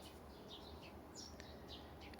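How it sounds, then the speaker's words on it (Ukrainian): Faint bird chirps and tweets sound at a distance in the early morning, over a quiet, steady background hiss. "Пташки співають і здається, що буде дуже гарний день."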